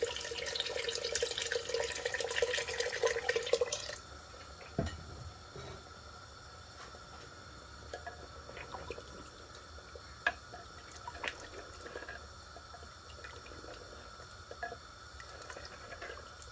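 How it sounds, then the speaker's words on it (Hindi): Water pours steadily into a pot of Punjabi-style aloo gosht curry for about four seconds, then stops, leaving a quiet kitchen with faint clinks and small knocks. "तो ऊपर से हम ये पानी डाल देते हैं।"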